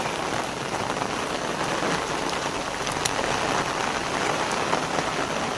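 Heavy rain pours down in a dense, steady hiss, loud and unbroken, drops pattering hard on surfaces all around.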